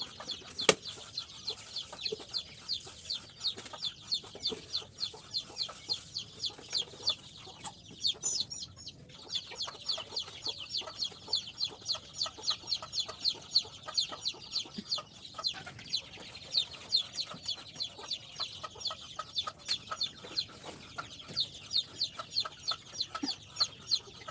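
Native deshi chickens and chicks on a poultry farm cluck and peep continuously in a busy, dense chorus, with occasional louder calls standing out.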